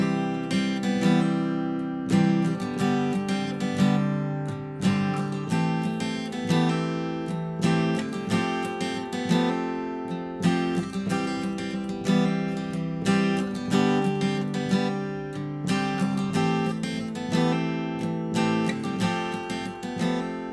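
A guitar riff repeats in a steady rhythmic loop, dense strummed and picked notes ringing with bright attacks, played alone at moderate volume.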